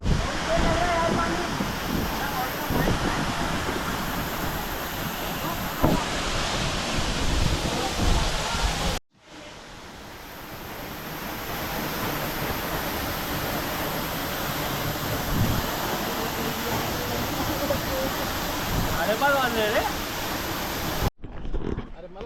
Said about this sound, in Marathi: हा ओरिजिनल धबधबा आहे पाण्याचा पहिल्या पावसाचा आहे धबधबा आहे पहिल्या पावसाचा धबधबा